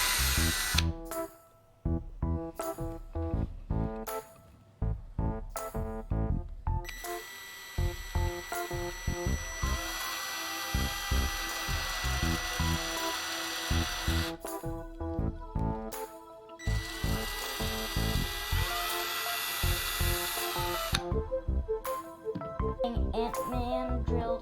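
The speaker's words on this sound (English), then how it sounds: "We got our third one drilling." Electric power drill boring into an old plastic toy, running in repeated bursts with short pauses, then long sustained whining runs, loud and close.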